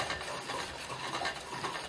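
A hand-powered pump drill boring steadily, giving a continuous dry raspy grinding with gentle rhythmic surges as the flywheel spins back and forth, close and moderately quiet, with no voices.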